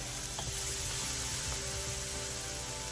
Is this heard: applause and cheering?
no